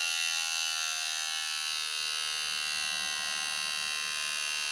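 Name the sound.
cordless hair trimmer running on weak battery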